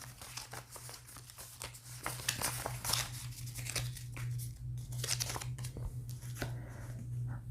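Cards riffle and snap in quick bursts, with crinkly papery shuffling repeated several times over a steady low electrical hum.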